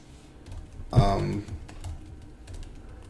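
Quick typing on a computer keyboard, a short burst of soft clicks and taps around a sudden louder knock, with people talking nearby.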